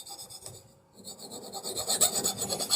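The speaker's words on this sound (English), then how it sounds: "I'm taking a file and I'm removing the burrs because I just put a grinder on this edge" Metal file rasping along a freshly ground metal edge to remove burrs in a metal shop, steady back-and-forth rubbing strokes, close and fairly loud, with a brief lull before the strokes grow stronger.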